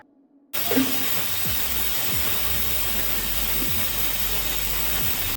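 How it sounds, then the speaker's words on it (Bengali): A pressure cooker of chicken stew with vegetables on a high gas flame vents steam in a loud, steady, unbroken hiss that starts abruptly and holds for several seconds. "হাই ফ্লেমে প্রেসার কুকারে 2টো সিটি হওয়া পর্যন্ত অপেক্ষা করব।"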